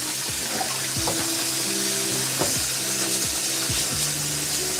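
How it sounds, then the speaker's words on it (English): Hot water runs into a grimy fridge or dish part during kitchen cleaning: a continuous splashing rush with squeaky, tonal, ratcheting sounds layered over it, close up and without talk. "Let's put some hot water in there."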